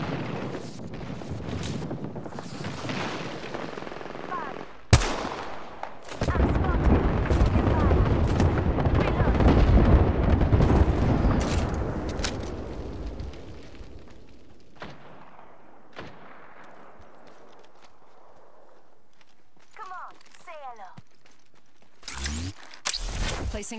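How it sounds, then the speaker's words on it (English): Video game airstrike: a sharp blast followed by a long roaring rumble of explosions and scattered gunfire, loud and close, fading out to quiet with brief speech near the end. "Airstrike."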